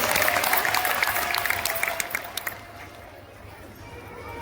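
Crowd at a Shiv Mahapuran katha religious gathering in Kokpur, Kanker applauding the administration, a dense burst of clapping that fades after a couple of seconds into quieter room noise.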